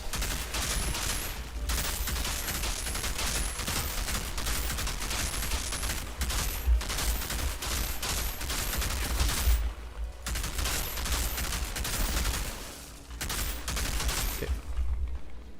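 Rapid automatic fire from an enemy turret in the shooter game Outriders, dense sustained volleys of loud sharp shots with brief pauses, mixed with other combat noise.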